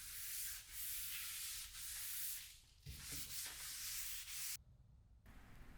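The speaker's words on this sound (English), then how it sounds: "I just sand in between the sealer and the top coat with like a very fine pad surf prep" Continuous rough rubbing as a fine pad sands a finished antique farmhouse table top by hand between sealer and top coat, in steady long strokes with brief pauses, no voices.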